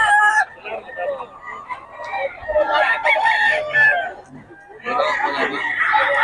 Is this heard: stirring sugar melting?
no